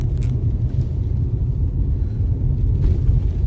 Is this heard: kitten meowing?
no